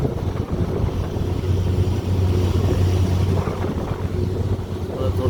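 An MSRTC bus grinds along a forested ghat road near Gaganbawda, its engine a steady low drone with wind rushing past throughout.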